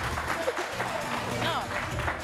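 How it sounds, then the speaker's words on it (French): An audience claps on a French-language television game show, a continuous burst of applause with talk and excited voices mixed over it. "Applaudissez."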